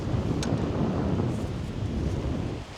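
Strong wind gusts at 30-plus miles an hour across an open golf course, buffeting the microphone in a loud, constant low roar that eases slightly near the end, with no voices.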